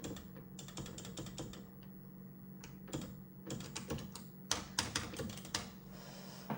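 Keys on a computer keyboard clatter in short irregular bursts of quick taps, close and fairly quiet, with pauses between runs over a low steady hum.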